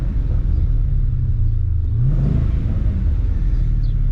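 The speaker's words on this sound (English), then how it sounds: "you've got a lovely roar as it bursts into life" An MG ZT 260 V8 just after start-up, a deep burbling roar that swells in a rev and settles back, loud and steady with a low rumble throughout.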